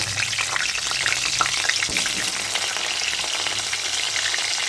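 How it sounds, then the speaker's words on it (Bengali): Potatoes fry in hot oil in a wok, giving a dense, continuous sizzle with crackling spits that stays close and even throughout, with no voices. "এবারে আমি আলুগুলোকে ভেজে নেব"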